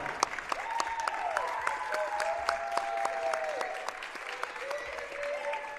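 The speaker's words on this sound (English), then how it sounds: "a warm round of applause" A crowd at a women's college basketball game applauds warmly with steady, dense clapping throughout, and faint tonal sounds drift underneath.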